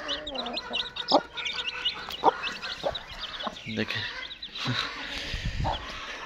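An Aseel hen tends newborn chicks, with scattered clucks and high peeping chirps close by, a voice talking faintly in the background.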